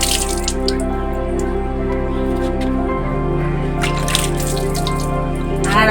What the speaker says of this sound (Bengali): আমটা ধুয়ে নেবো আজকে